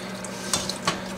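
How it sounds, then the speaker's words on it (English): A water mixture is slowly added to thickening flour in a hot pan while it is stirred, a quiet bubbling sizzle broken by a few soft spoon scrapes and clinks. "I'm slowly adding my water mixture"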